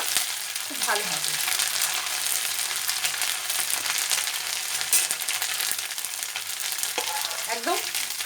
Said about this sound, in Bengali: এবার এর মধ্যে নারকেল কুচোগুলো ভেজে নেব।